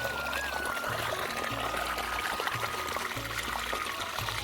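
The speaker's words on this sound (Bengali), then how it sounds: "খেতে জল দিচ্ছে, ওই যে মোটর চলছে ওইখানে, এদিকে জল দিচ্ছে।" Water from a motor pump pours steadily into a farm field, a continuous rushing and trickling flow with a faint low engine hum behind it.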